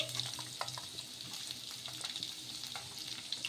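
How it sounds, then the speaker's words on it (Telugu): Garlic cloves and sliced onions fry in a pan, a soft steady sizzle with crackling pops and occasional stirring scrapes, quiet and close, with no talking. "అలాగే వెల్లుల్లి రెబ్బలు, ఇలా ఇవన్నీ వేసుకొని ఒకసారి కొంచెం కలిపేసుకొని ఇలా ఫ్రై చేసేసుకోవాలి"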